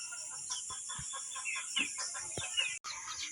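Chickens clucking softly in quick, scattered calls over a constant high-pitched background hiss, with a brief dropout near the end.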